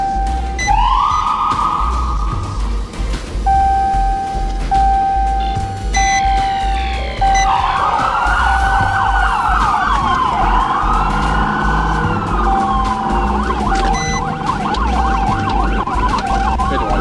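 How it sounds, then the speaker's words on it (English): A police car siren wails and yelps during a high-speed pursuit, loud and close, switching between rising sweeps, steady tones and rapid warbles over road and engine noise. "prompting the trooper to activate his siren and initiate a pursuit"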